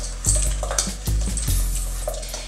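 Stirring a stuffing mixture with chopped organic thyme in a pan, a few soft scraping and clinking strokes over a faint sizzle, with no talking.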